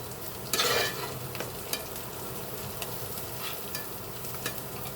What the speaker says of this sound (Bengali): পেঁয়াজ রসুনগুলো যখন ভাজা ভাজা হয়ে আসবে, লাল লাল হয়ে আসবে